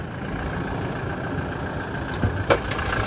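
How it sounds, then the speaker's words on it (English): A 2018 Toyota Hilux SR engine idles steadily in its open engine bay, a low even hum close to the microphone with a couple of brief knocks near the end. "Just going to show you the engine bay of the vehicle now."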